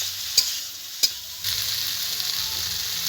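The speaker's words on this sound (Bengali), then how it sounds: "ভেজে রাখা আলু আর কপিটাকে দিয়ে দেবো। ভালো করে একটু মিশিয়ে নেবো মশলার সঙ্গে।" A spoon scraping and stirring fried potato and cauliflower with spices in a pan, two sharp clinks against the metal followed by a soft, steady sizzle, close up with no talking.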